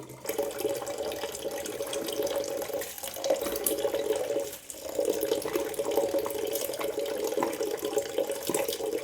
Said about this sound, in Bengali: সবগুলো সবজি এখন জল দিয়ে ধুয়ে পরিষ্কার করে নিচ্ছি।